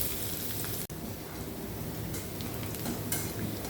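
Chopped garlic frying in hot oil for a Bengali snack, a continuous bright sizzle with faint stirring scrapes, broken once by a very brief dropout.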